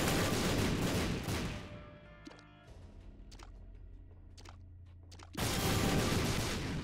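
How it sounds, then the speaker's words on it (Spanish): Game explosions from The Binding of Isaac: Repentance, self-triggered by the player, come as a loud dense blast at the start, then quieter sharp hits over a low hum, and another loud burst near the end. "Me tiro yo mismo las explosiones."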